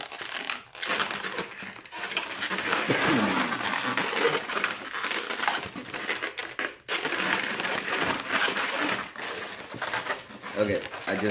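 Latex balloon animal shaped as a mermaid being unwrapped and handled, a continuous run of loud crinkling, rubbing and squeaky crushing sounds close to the microphone, with brief pauses between bursts.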